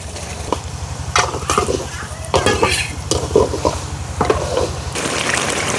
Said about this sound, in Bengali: মশলা কষানি হয়ে গেছে এখন হাঁসের মাংসগুলো দিয়ে দেবো